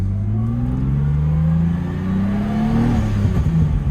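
A turbocharged six-cylinder BMW E36 fitted with an Audi R8 ignition system runs close by, a loud steady engine drone that rises slightly in pitch and then settles, with no voices.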